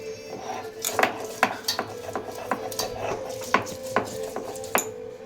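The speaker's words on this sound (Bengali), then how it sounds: "এবার আমি আদা আর পেঁয়াজটা বেটে নেব।" Ginger and onion being ground into a paste in a home kitchen, heard as a series of sharp, rhythmic knocks and scrapes repeating roughly every half second, close and moderately loud over a faint steady hum.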